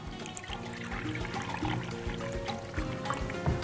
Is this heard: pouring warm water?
yes